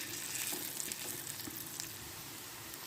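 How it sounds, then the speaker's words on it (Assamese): Green chilli broken into hot oil sizzles and fries steadily in a pan at home, a dense continuous crackle close by with no talking. "অকণমান ভাজি লওঁ লগতে এটা খুদ জলকীয়া দি দিছোঁ জলকীয়াটো ভাঙি দিছোঁ"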